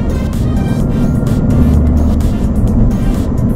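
A Mini Cooper S engine with a supercharger runs steadily inside the car, a low, even, close hum that stays loud throughout with no talking over it.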